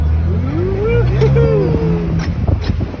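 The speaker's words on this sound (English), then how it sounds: "you'll notice the exhaust sounds a little different here" A Ford Bronco's deep exhaust rumble, opened up in off-road mode, hums steadily, rising and falling in pitch as the vehicle moves, with a few muffled bumps near the end.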